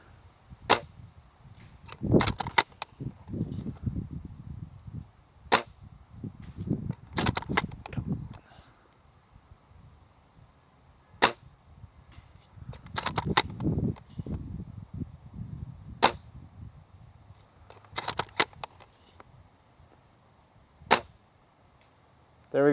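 An airsoft VSR sniper rifle fires BBs at a target outdoors, giving sharp, isolated snaps spaced several seconds apart, each followed by a brief impact ring, with rustling and handling noise in between.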